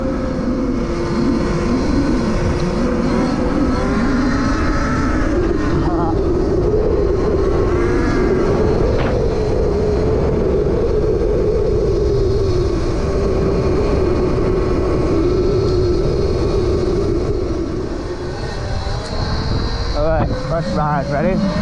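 An E&C Razor MX RC car with an EXTREME EC4P motor runs on its first outing, its electric motor whining continuously and shifting in pitch as it speeds up and slows for over twenty seconds, loud, with occasional voices underneath.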